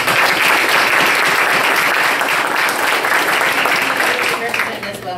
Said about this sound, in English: we can give him a round of applause in his absence